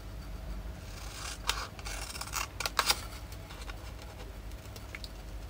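Scissors trimming and rounding the corners of a paper sheet for a handmade scrapbook box, quiet irregular snips and rustles of paper with brief sharper cuts, close up and without talk.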